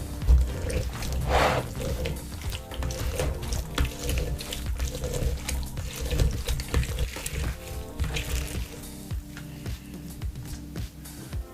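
Juice of two oranges trickling and splashing through a strainer, with soft drips and clinks of kitchenware, continuous and close by.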